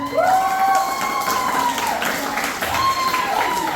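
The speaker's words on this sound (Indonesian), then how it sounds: "Tepuk tangan dulu dong." High school students in a classroom or hall clap together, a loud burst of applause mixed with cheering shouts and whoops that rises again briefly near the end.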